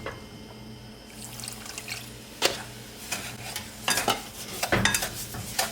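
A quarter cup of water poured for homemade sugar wax, with a light trickle and splashy stirring clatter in a kitchen, joined by several sharper knocks of utensils against the pot.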